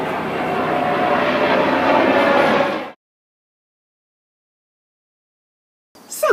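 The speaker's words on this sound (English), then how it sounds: "I've got a helicopter going overhead" A loud, steady aircraft drone with rotor-like roar fills the first few seconds, then cuts to silence before a brief noise at the end.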